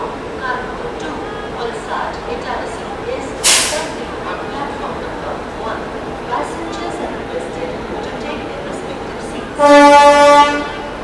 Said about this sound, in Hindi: वडोदरा शेड के वेब 7 के साथ अराइव करते हुए अपनी डिब्रूगढ़ नई दिल्ली राजधानी एक्सप्रेस।